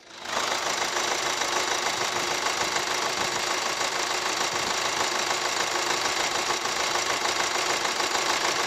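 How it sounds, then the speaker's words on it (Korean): The diesel engine of a 2010 Hyundai Tucson ix 2WD VGT compact SUV idles steadily with a close, even clatter and hum, heard alone for several seconds. "내리셔가지고 엔진 소음도 한번 들어보시도록 할게요"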